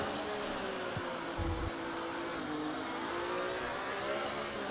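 Racing car engine heard from the onboard view in an F1 video game, a steady high droning whine held at constant loudness throughout, with a brief low thump partway through.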